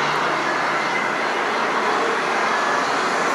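Loud, steady roar of Sun Country charter airliner engines idling near an Atlanta airport gate before departure, a continuous broadband whine and rush with no pauses.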